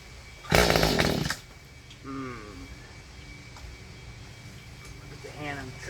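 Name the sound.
Mantis tiller engine running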